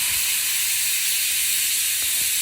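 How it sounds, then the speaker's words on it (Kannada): A pressure cooker of dal with turmeric, coriander powder and garam masala vents steam as a steady, loud, hissing rush that carries on unbroken throughout, with no talking. "ನಾನು 5 to 6 ವಿಷಲ್ ಹೊಡಿಸ್ತೀನಿ"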